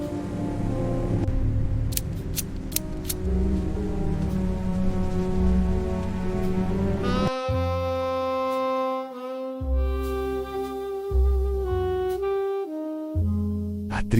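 Storm rain sound effect in an audio drama, a steady broadband wash of rainfall for the first half before a sustained tonal musical bed takes over, with no voices.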